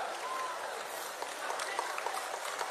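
Audience applause at a prize-giving ceremony where cash awards are handed out, a steady wash of many hands clapping at moderate distance, continuous throughout with a few sharper individual claps standing out.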